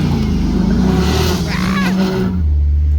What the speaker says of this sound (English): It's the very first drive I've had with the truetrac, which you could hear just sort of making that shunt sound, that sort of squeak.